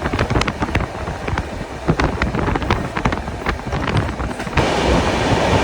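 Gandhidham–Bandra superfast train running at about 100 km/h near Ankleshwar, heard from on board: a loud, steady roar of wheels and wind with rapid sharp rail clacks scattered throughout.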